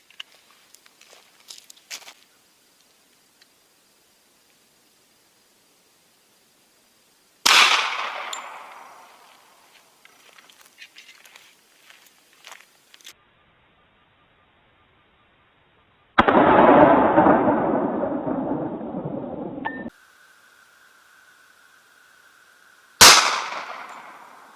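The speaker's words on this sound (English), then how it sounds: "We're going to be shooting it out of my Rock Island 1911." Three sharp gunshots from a Rock Island 1911 pistol firing PMC 10mm FMJ rounds, each a loud crack with a ringing decay, spaced several seconds apart, with handling clatter in between and a sustained hiss after the second shot.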